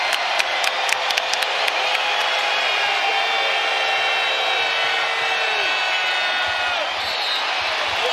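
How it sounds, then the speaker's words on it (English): Basketball arena crowd at a Boston Celtics versus Oklahoma City Thunder NBA game erupts after a Jaylen Brown play, a loud sustained roar and cheer filling the building with a few sharp claps and shouts early on. "And that ignites this combustible crowd."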